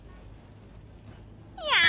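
A cat on a high ledge eight floors up lets out a single loud, close meow near the end, after a stretch of quiet background.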